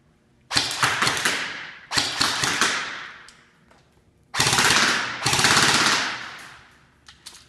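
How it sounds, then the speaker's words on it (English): A Magpul VFC airsoft rifle on a Polar Star setup fires loud, close rapid bursts in four clusters, with semi-auto shots and sustained full-auto strings separated by brief pauses. "the first one I'm going to be shooting today is the Magpul VFC."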